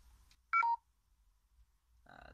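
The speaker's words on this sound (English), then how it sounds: "That is just my phone running out on battery" A short electronic phone beep of two quick stacked tones, fairly clear against a near-silent background, followed by the start of a voice at the end.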